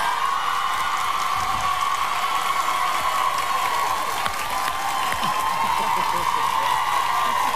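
Studio audience of a daytime talk show applauding to vote, a dense, sustained roar of clapping at steady loudness from start to finish.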